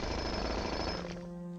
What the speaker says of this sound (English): I've got the jackhammer